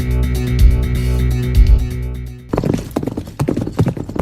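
Horse hooves clopping in a quick irregular patter after a stretch of steady droning music, close and fairly loud.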